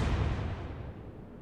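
A deep, rumbling boom of warship guns firing in the naval game Atlantic Fleet, a single heavy blast that decays over about a second, loud and alone.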